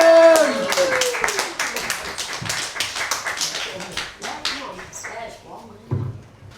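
At a comedy club, scattered audience claps tap out fairly sparsely after an opening tone, thinning into a few isolated claps and a thump near the end.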